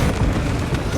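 A frag grenade blast in Space Marine 2, a dense, loud low boom with rumbling debris filling the whole second, no clear single onset, close and heavy.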